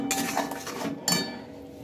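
A utensil clinks against a bowl of raw mango and sugar as it is stirred, two or three light metallic taps close by in a quiet room.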